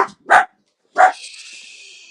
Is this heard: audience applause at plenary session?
no